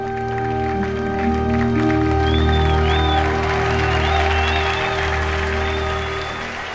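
Audience applause fills a church service, a steady wash of clapping sustained for several seconds beneath held organ-like music tones.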